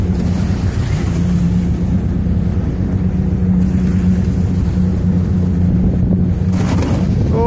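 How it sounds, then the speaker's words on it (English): Motorboat running upriver through ice chunks on the way to a hunting cabin, a loud steady engine roar mixed with wind and water rush, and a few scraping knocks near the end. "that's me going over some ice chunks to get to the cabin"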